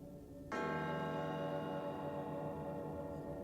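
A single dissonant bell in the One Piece anime strikes once and rings on with a long, sustained metallic decay, fairly loud and alone without speech.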